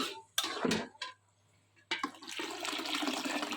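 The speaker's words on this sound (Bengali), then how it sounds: "পানিটা দিয়ে দিচ্ছি এখন" Water pours in short splashing bursts into a cooking pot of chickpea dal, then a steady, fairly loud rush of water fills the pot for the last couple of seconds.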